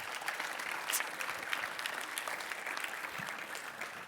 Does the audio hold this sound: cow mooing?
no